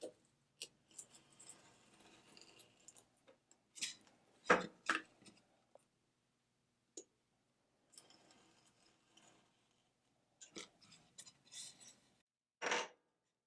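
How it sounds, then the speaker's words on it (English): A blade drawn along the edge of a painted MDF board, trimming squeezed-out paint, gives short scraping and rasping strokes in separate bursts with quiet gaps between them, close up and without speech. "just push the blade against the side of the board and then I run along it."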